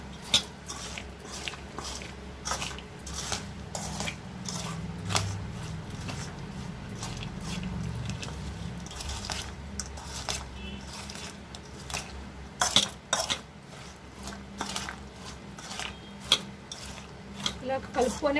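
Boondi being mixed by hand in a vessel for laddu, giving soft squishy rustles and light scrapes with occasional sharper clinks against the pot, close and steady throughout.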